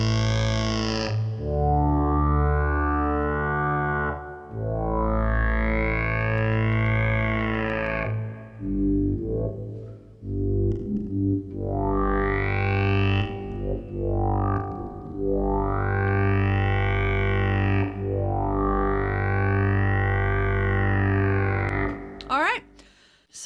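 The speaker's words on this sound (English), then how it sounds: "let's go to that phaser sound I liked" A Roland JX-08 synthesizer with a phaser effect plays long sustained notes whose bright overtones sweep up and down in slow swells. The sound is loud and close, with a brief burst of noise at the end.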